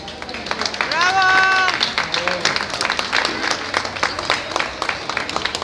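Audience applause for a female singer before a small live music performance: scattered claps from a modest crowd at moderate distance, with a voice and a cheer early on, and the clapping continuing unevenly throughout.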